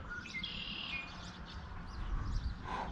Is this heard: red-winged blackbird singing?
yes